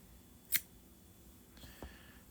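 Scissors snipping a crochet yarn tail: one sharp close cut, then a fainter second snip and small handling rustle about a second later, in a quiet room.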